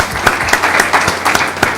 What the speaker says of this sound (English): Let's give her a round of applause in absentia.